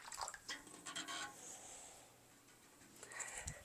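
Plain tap water poured into a seed-starting tray, a faint trickling and dripping stream with small splashes that rises and fades, heard close and quiet.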